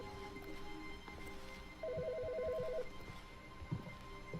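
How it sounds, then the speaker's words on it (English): Phone ringing in the video game The Stanley Parable, one short burst of a quick warbling electronic ring, clear and moderately loud over a quiet background. "Somebody's phone is ringing."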